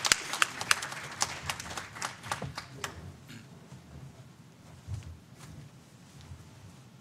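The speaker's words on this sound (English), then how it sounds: "Let's first maybe a quick round of applause for Jason, Mary, Neal" Brief round of audience applause at a telehealth panel discussion: scattered, fairly faint hand claps that start crisp and close, then thin out and taper into a soft patter with no talk.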